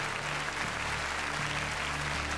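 Sustained audience applause for contestant Claudia at the Miss Italia 2005 final, a thick, even wall of clapping from a large crowd with a low steady hum beneath it.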